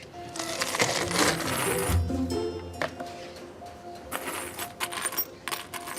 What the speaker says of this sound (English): The first thing I'm going to do is try all of my spare keys.